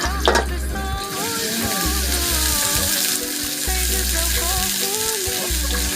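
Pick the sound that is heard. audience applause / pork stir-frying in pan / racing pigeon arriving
pork stir-frying in pan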